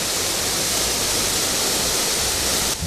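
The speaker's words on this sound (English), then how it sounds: "Verily, waterfalls are numerous in Plateau State" A waterfall in Plateau State roars in a loud, constant, broadband rush heard up close and alone, cutting off abruptly at the very end.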